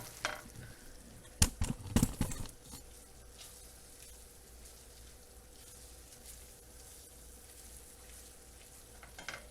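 Risotto with rice and pasta cooking in a pan, a gentle continuous simmering sizzle with a brief burst of stirring and scraping clatter near the start.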